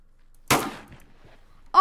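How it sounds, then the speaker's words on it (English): A hunting rifle fires in a Roblox Fortnite-style video game, with one sharp, close report that rings briefly and then fades. A short synthetic tone follows near the end. "So it is like a hunting rifle"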